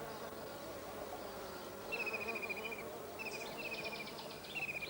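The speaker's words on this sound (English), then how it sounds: "The most common visitors are honeybees." Honeybees buzz around orchid flowers in the wild over faint background hum. The buzzing drifts close in short bursts, rising and falling as insects pass.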